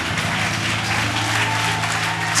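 Church congregation applauding together in a steady, dense wash of clapping that fills the room, continuous and fairly loud throughout, with faint voices mixed in underneath.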